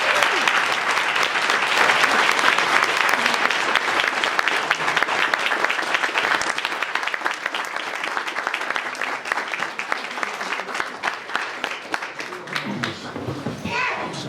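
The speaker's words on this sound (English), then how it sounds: "Another round of applause." Audience at an annual Dr. Martin Luther King Jr. luncheon applauding after a keynote address, with steady sustained clapping from a large room and children's voices and crowd chatter mixed in throughout.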